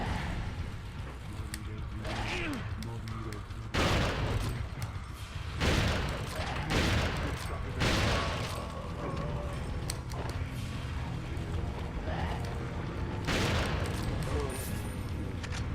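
Gunfire in the video game Resident Evil 4, with repeated bursts of shots and booming hits scattered through a busy, loud game mix while people talk over it.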